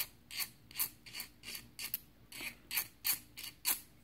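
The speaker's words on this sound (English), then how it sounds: "And then you want to use the flat side of the file." Flat file rasping over the beveled blade of a cigar cutter in about ten even, gentle strokes, each a short dry scrape, close up with no talk.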